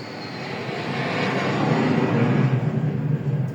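An aircraft passes overhead, its engine roar swelling gradually from a distant rumble to a louder, fuller drone by the end, heard alone without voices.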